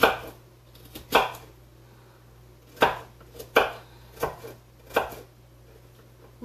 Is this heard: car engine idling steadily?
no